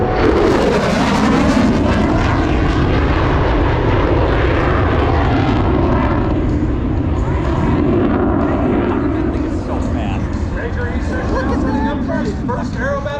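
An F-16 Falcon jet flies a demonstration at the 2024 Stuart Air Show, a loud, continuous roar that swells and fades across the whole stretch, with a voice speaking over it throughout.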